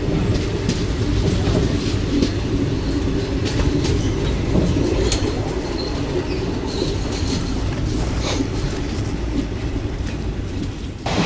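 A local train runs through dense forest on the Goa route, with a loud, continuous rumble and rattling wheel noise heard from on board throughout, and faint clatter on top.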